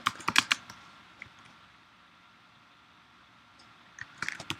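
Bursts of quick clicking keystrokes on a computer keyboard while typing Ruby code for SketchUp, close but quiet, with a long pause between the two bursts.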